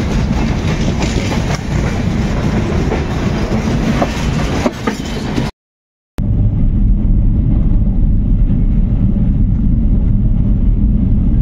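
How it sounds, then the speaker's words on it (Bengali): A train pulling into Barakar station on a Madhya Pradesh to Kolkata journey gives a loud, continuous rumble and clickety-clack of wheels, cut by a brief silent gap before the heavy rolling noise resumes. "এই মুহূর্তে আমাদের ট্রেন চলে এলো বরাকর স্টেশন"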